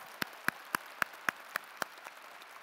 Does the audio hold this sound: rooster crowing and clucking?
no